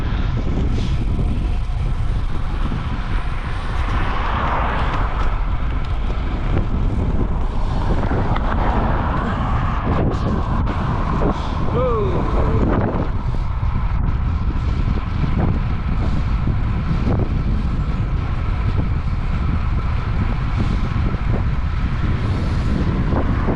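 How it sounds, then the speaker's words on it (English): Steady wind rumbling across the microphone of a runner on an outdoor road race, a dense low roar that persists without letup for the whole stretch, with faint traffic-like hum blended in and no talking. "Got the wind on my back though, which is nice."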